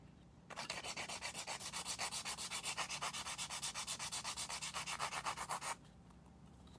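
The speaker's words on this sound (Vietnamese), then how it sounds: "Để em vũa cái shape trước, nên em sẽ xài máy để vũa cho anh." An electric nail file shapes a hybrid gel nail, a close, steady rasping buzz with a fast pulsing rhythm lasting about five seconds before stopping.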